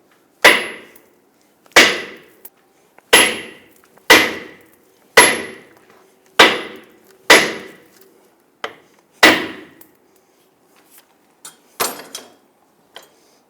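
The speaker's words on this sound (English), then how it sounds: "I'm going to strike the control arm here to separate it from the ball joint" A hammer strikes a steel control arm on a 2000-2006 Toyota Tundra about ten times in a steady rhythm, separating it from the ball joint, each sharp ringing clang decaying quickly, loud and close, with a few lighter taps at the end.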